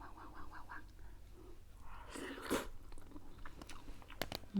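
Someone eats an egg with a Vietnamese-style noodle soup, giving soft bites and wet chewing close to the mic, with a louder crunchy bite midway and quiet murmured speech around it.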